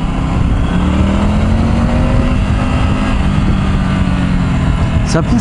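Triumph Tiger 900 Rally Pro motorcycle accelerating on the road, its engine note rising steadily under heavy wind rush, with someone talking over the ride.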